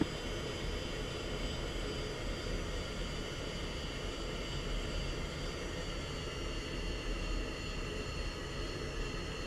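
F-16 jet taxiing in a flight simulator game, a constant, even engine drone holding at a moderate level throughout with no change in pitch.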